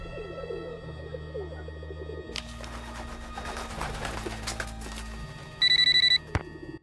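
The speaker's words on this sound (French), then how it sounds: "Je ferais mieux d'appeler Sophia" Telephone ringing during a call in a Nancy Drew video game set in Venice, heard as a short burst of rapid, bright electronic ring pulses near the end after a stretch of game ambience and cooing.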